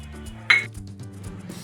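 Coconut pudding stirred in a pan over a low flame, a sharp metallic clink of the spoon against the pan followed by soft scraping and low background hum, close and fairly quiet.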